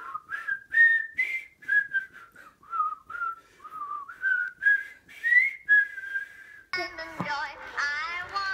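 Clear melodic whistling by a person, a run of short rising and falling notes close to the mic, followed near the end by a brief burst of a voice.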